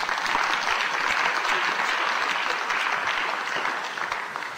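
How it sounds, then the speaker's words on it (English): Warm applause rolls through a snooker crowd at an international open tournament, steady and dense from the start and easing slightly toward the end, with no voices over it. "Warm applause from the crowd."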